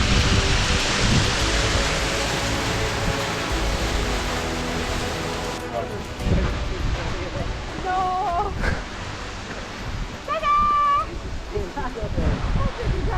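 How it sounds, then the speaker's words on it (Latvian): A waterfall near Kjerag, Norway, in thick fog, roaring as a steady broadband rush through the whole stretch, with voices faintly audible over it in the later part. "Tad te ir ūdensmetums."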